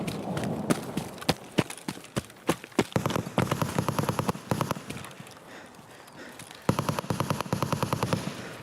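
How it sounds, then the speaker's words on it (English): In the Escape from Tarkov video game, other players' gunfire crackles at a distance, with single shots giving way to rapid automatic bursts, moderately loud and continuous across the stretch. "Those people shooting is a good sign."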